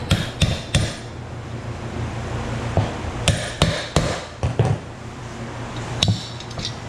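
A hammer strikes to knock an aluminum heat sink off a solid copper brick. About a dozen sharp metallic blows land in irregular clusters with pauses between them, close and ringing, with no talk.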